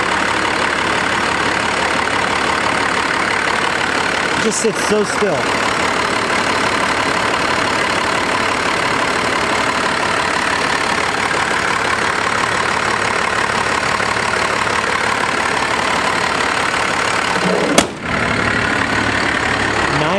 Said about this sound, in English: Let me show you guys how this thing starts.